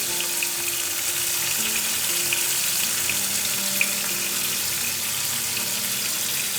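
Sesame and green chilli paste frying in a pan for a pointed gourd dish, a steady soft sizzle and hiss running throughout with no one speaking.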